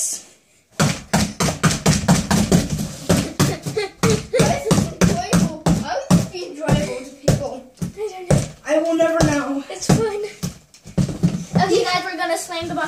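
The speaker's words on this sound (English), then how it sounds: "Slam the box a few more times" Cardboard box slammed and bashed repeatedly, a rapid series of loud, sharp thuds up close, with voices talking and shouting between the hits.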